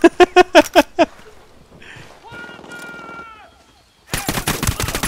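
Rapid bursts of automatic gunfire in the video game Ghost Recon Wildlands, a loud volley of about six sharp shots in quick succession, followed by quieter game sounds and then another dense clatter of fire.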